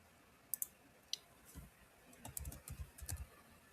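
Computer keyboard keys tapped in short bursts, a few isolated clicks followed by a quicker run of typing, close and fairly quiet with no talk.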